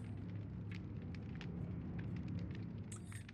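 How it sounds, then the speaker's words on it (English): Fire in the video game Dead by Daylight crackles steadily over a low, constant rumble, with faint scattered pops and snaps throughout and no talking. "So you're hearing, like, the crackling of the fire, I think."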